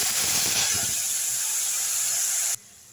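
Ivy gourd pieces dropped into a hot pan of fried urad and chana dal, a loud steady hiss of sizzling oil that holds for about two and a half seconds before cutting off abruptly.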